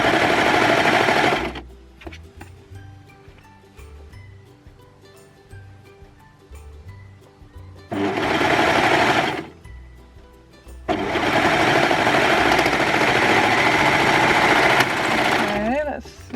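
Sewing machine stitching a seam on a stretch knit baseball T-shirt, running in three loud, sustained bursts separated by quieter pauses, with a longer final run that ends abruptly.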